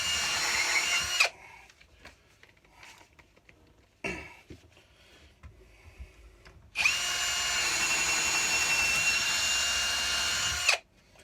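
A Ryobi R18PD7 One+ percussion drill drives a deck screw into wood in two loud, steady bursts of whirring, one brief near the start and a longer sustained run of about four seconds later, with quieter handling noise between.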